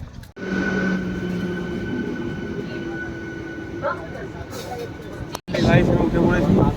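A train rumbles into a station with a steady low roar and a faint whine, with people talking nearby over the noise.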